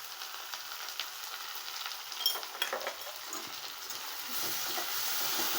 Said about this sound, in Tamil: மஞ்சள் பொடியும் சேர்த்ததுக்கப்புறம் நல்லா எல்லாமே மிக்ஸ் பண்ணி கிளறி வச்சுக்கோங்க